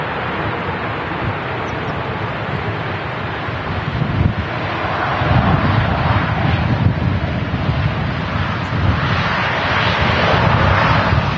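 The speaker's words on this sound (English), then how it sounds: "This Dreamliner is going to get off in front of us." A Boeing Dreamliner jet rumbles on takeoff at Manchester Airport, a broad roaring wash that swells after a few seconds and stays loud, mixed with heavy wind buffeting on the microphone.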